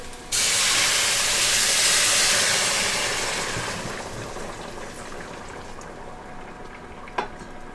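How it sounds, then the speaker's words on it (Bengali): Warm water hits a hot pan of frying potatoes and spices for a pakal fish curry with potato and tomato, giving a sudden loud steaming hiss and boil that slowly fades, with a brief clink near the end. "এবার আমি এখানে দিয়ে দেবো উষ্ণ গরম জল করে নিয়েছি সেই জল দিয়ে দেবো"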